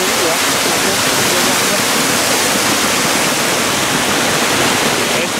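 The Cascade du Moulin du Saut waterfall roars up close as a loud, steady, unbroken rush of falling water that fills everything, with no distinct voices rising above it.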